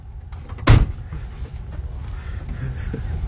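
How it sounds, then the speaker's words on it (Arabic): A car's rear door slams shut once, close by: a single sharp, heavy thud that stands out over steady low background rumble. "الباب اللي ورا سكر"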